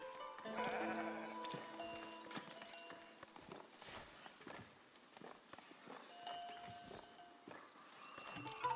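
Many sheep bleat over and over in a busy pastoral scene from the Foundation video game, the calls overlapping at close range and joined by soft clip-clop hoof sounds.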